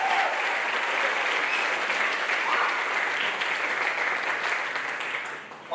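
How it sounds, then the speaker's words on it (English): Steady, full applause from an audience at an afterschool music showcase in an opera house, a continuous dense roar of clapping that tapers slightly at the end. "Give it a big round of applause for Devin."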